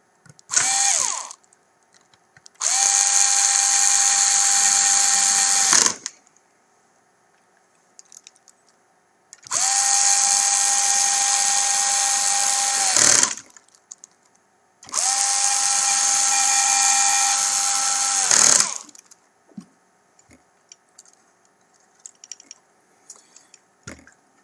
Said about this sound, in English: You're going to install those 3 screws back again,